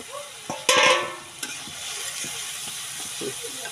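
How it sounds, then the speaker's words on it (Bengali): Potato and eggplant pieces frying together in a pan of hot oil with spices, a loud clatter of the spatula early on, then continuous sizzling with intermittent scraping stirs. "এখন আমি নাড়াচাড়া করব।"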